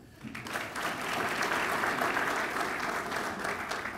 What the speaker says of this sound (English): not that long of an applause